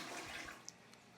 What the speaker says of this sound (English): So I'm going to press this and then release it.